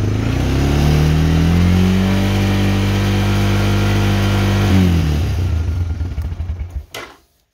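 A 1990 Honda Fourtrax 300 ATV engine runs loud and steady with a rising, then falling rev before sputtering and cutting out, ending in a few uneven pops and silence.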